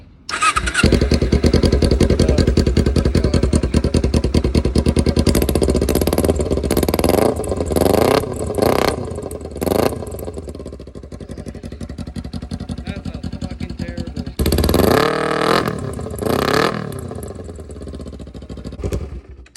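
A Kawasaki Ninja motorcycle on a cheap project bike is started and runs loudly at close range, with rough, clattery idling and repeated sharp throttle blips, a brief dip near the end before it revs again.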